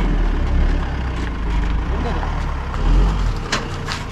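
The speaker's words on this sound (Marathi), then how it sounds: "येऊ द्या, येईल गाडी" A road vehicle, likely a heavy truck, rumbles past close by with loud, steady engine and tyre noise throughout, and faint voices sit underneath.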